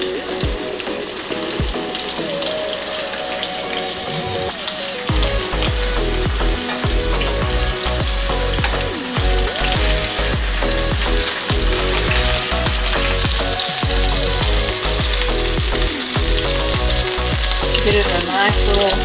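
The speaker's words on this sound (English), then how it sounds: "Let that sear a little bit." Stuffed chicken spinach and cheese rolls searing in a hot pan, a loud constant sizzle and frying crackle with occasional tong clacks and stirring sounds throughout.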